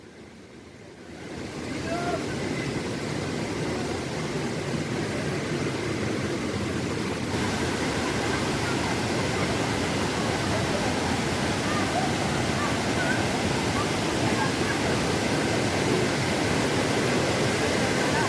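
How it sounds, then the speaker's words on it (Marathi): A waterfall near Malgund Nivendi roars as a dense, constant rush of water. It starts quiet, then rises within the first two seconds and stays loud and unbroken throughout. "सुंदर अशा ठिकाणी हा धबधबा"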